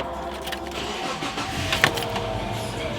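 An older car being switched on and its engine starting: a close, steady mechanical whir and hum with a brief rise in the middle, running for a few seconds without speech.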